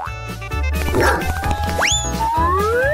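A small dog yaps in short repeated barks mixed with bouncy cartoon-like boing sweeps and other playful effects, fairly loud and close.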